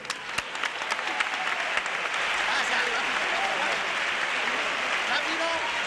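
Applause from a chirigota carnival crowd for a Cádiz-style murga, loud and sustained after a few scattered early claps, a broad roar of clapping with a faint voice or two mixed in.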